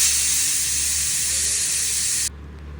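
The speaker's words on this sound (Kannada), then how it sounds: "ಮತ್ತೆ ಕುಕ್ಕರ್ ಕ್ಲೋಸ್ ಮಾಡ್ಕೊಂಡು 2 ವಿಷಲ್ನ ಕೂಗಿಸ್ಕೊಳ್ಳಿ" A pressure cooker whistles loudly with a steady, forceful hiss of steam while mutton chops cook, then cuts off abruptly, leaving a faint low hum.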